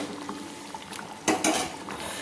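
A spatula scrapes and clinks against a pan of chicken and egg gravy, with two louder metallic stirring bursts near the middle amid quieter kitchen clatter.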